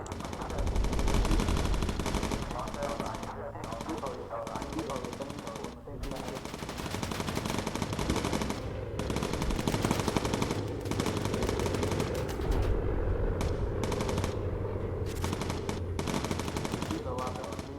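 Machine guns in the Bomber Crew video game rattle without a break, a loud, dense stream of automatic fire mixed with engine drone and other battle noise.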